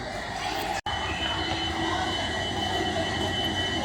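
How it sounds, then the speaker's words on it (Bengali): A train pulls into a station platform with a loud, steady rumble of rolling wagons and a faint wheel squeal, continuous throughout apart from a momentary dropout near the start. "ট্রেন অলরেডি প্ল্যাটফর্মে চলে এসেছে।"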